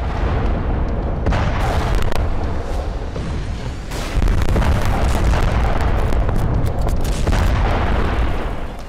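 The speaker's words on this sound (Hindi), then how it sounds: "सात दिन की शांति, फिर धुआंधार बमबारी।" Heavy bombing in the Israel-Hamas war brings a dense, continuous barrage of deep booms and blasts, loud and rumbling with overlapping bursts and no pauses.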